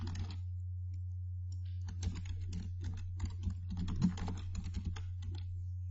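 Someone types on a computer keyboard to rename a software preset. The keystrokes are quiet, close and irregular, coming in quick bursts over a low steady hum.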